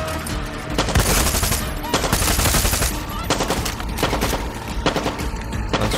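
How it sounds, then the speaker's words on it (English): Rapid automatic gunfire from a weapon in the video game Far Cry 6, loud and dense, in sustained bursts with brief pauses between them, close up throughout. "Let's try this gun. See how it is."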